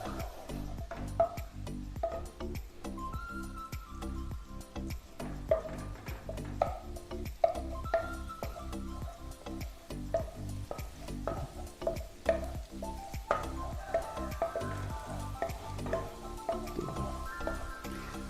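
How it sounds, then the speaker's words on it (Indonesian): Onion, then garlic, stir-fried in a pan as the base for croquette filling, with a steady sizzle broken by frequent scraping and stirring clicks, close and continuous throughout with no talking. "Jadi bawang bombay terlebih dahulu baru bawang putih. Kita tumis sampai harum."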